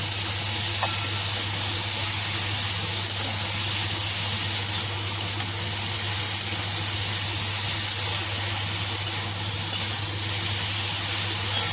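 Masala in a pan on a kitchen stove sizzles steadily after a little water is added, a loud continuous frying hiss with faint scraping stirs, no talking, and a low steady hum underneath.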